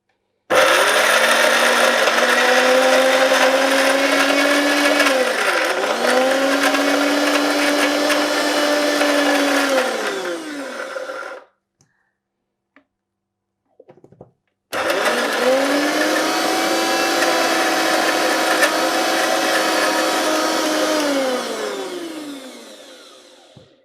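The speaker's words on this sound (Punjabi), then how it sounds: "ਆਪਾਂ ਇਹਨੂੰ ਵੀ ਉਸੇ ਕਾਲੀ ਮਿਰਚ ਵਾਲੇ ਗ੍ਰੈਂਡਰ 'ਚ ਗ੍ਰੈਂਡ ਕਰ ਲੈਨੇ ਆ" An electric kitchen grinder, the same one used for black pepper, whirs loudly through ingredients for lemon chicken in two long bursts separated by a short pause, its motor pitch dipping and recovering as the load shifts.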